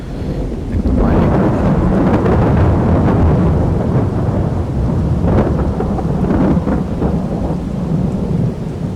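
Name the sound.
thunderstorm in the video game Farming Simulator 22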